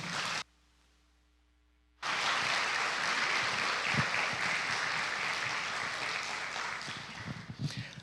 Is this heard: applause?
yes